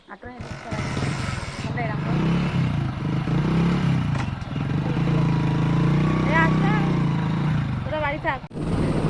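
A motorcycle riding along a village road in the morning, its engine a steady low rumble mixed with wind and rattling, continuous and close, with voices talking over it.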